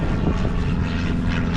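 A small propeller airplane from a nearby small airport passes low overhead, its loud, steady droning engine and buzzing prop filling the air outdoors on rural land.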